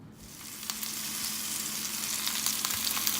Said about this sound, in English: then we're going to sear it with a little bit of ghee